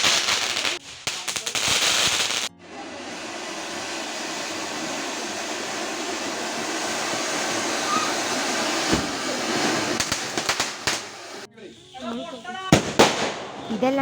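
Firecrackers set off for Eid celebrations, a loud continuous crackling barrage of rapid bursts lasting several seconds, followed by scattered sharper bangs and pops, with voices nearby.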